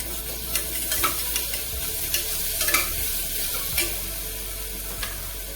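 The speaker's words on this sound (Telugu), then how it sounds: "ఇక మనము అల్లం వెల్లుల్లి పేస్ట్ వేస్తున్నాము" Ginger garlic paste sizzling with reddened onions in a pan on a stove, a steady frying hiss broken by a few scraping stirs and light clinks, close and alone without voices.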